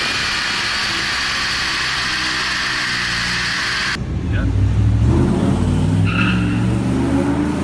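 A car being driven, its engine droning loud and close throughout, then shifting abruptly into a heavier, lower roar partway through, with a few faint squeals.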